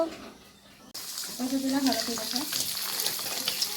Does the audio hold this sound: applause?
no